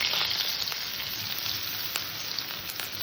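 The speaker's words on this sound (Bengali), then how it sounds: "পেঁয়াজটাকে হালকা করে ভেজে নেব" Chopped onion frying in hot oil over whole cinnamon, cloves and cardamom, giving a steady close hiss of sizzling with a few faint crackles and no voices.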